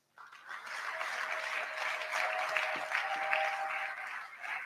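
Audience applause breaks out during a pastor's ordination service as the pastor returns to his seat, a steady wash of clapping that starts abruptly and holds at moderate loudness throughout.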